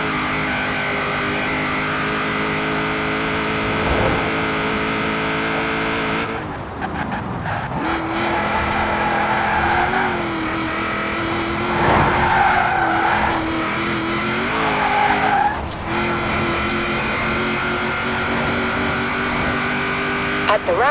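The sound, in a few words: car engine driving in Forza Horizon 4 video game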